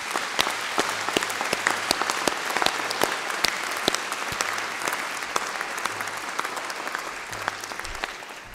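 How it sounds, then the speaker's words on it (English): A large audience at a graduation ceremony breaks into sustained applause, dense crisp clapping from many hands continuing steadily throughout with a slight thinning toward the end. "could we start with a huge round of applause for everyone who has supported you?"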